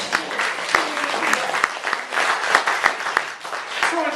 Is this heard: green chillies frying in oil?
no